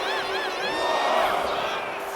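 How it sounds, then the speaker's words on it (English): In the WWE 2K25 wrestling video game, an arena crowd cheers and whoops steadily for two seconds, a dense roar of voices with a commentator talking over it. "McCool is firing up the crowd here."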